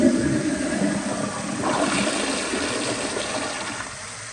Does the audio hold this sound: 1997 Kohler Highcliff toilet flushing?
yes